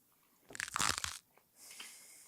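A loud, crisp crunch of biting into fried pickles, a dense burst of crackling lasting under a second, followed by quieter chewing crunches close to the mouth with no talk.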